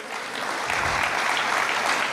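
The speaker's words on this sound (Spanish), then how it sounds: "Dale un fuerte aplauso al Señor." Broad, dense applause from a church congregation, a continuous wash of many hands clapping at once that holds steady throughout with no talk over it.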